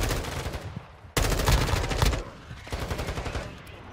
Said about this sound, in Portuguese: Tô ocupado trocando tiro